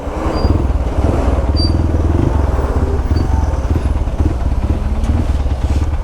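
Vehicles grind slowly over a narrow, rough forest track near Kabini on half clutch, a close, loud, steady engine drone with rattling and clatter.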